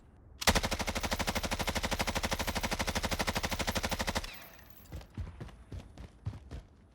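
Bruen MK9 light machine gun from Call of Duty Warzone firing one loud, rapid, steady automatic burst for about four seconds, then a few scattered shell or impact clatters as the burst stops.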